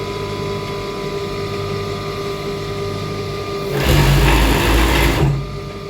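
A cover stitch sewing machine runs a short burst while hemming the lower part of two-piece night wear, a loud steady mechanical whir that starts abruptly and stops after about a second and a half over a faint background hum.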